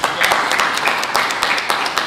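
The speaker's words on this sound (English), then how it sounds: "Give him a round of applause joining us." A crowd applauds at a community event in Paterson, New Jersey, with steady, dense clapping from many hands that carries on throughout at close to moderate distance.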